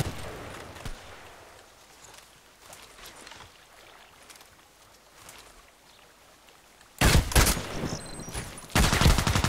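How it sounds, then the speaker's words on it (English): Glock pistol shots ring out in the first-person shooter Contract Wars, with sporadic faint pops and clatter through most of the stretch, then loud dense bursts of rapid fire near the end. "My last 16 shots with the Glock."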